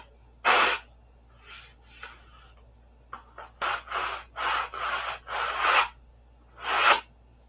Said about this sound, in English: while I sand on the rest of this stupid thing